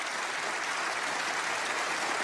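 Sustained applause from a large crowd at a snooker final between Ronnie O'Sullivan and Kyren Wilson at the 2017 English Open, a steady dense clapping that fills the whole stretch evenly without letup.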